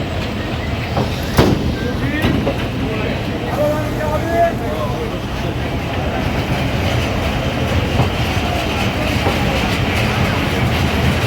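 Padma Express intercity train on the Rajshahi–Dhaka route crossing a bridge, a loud steady rumble with rhythmic clickety-clack of wheels and wind buffeting throughout.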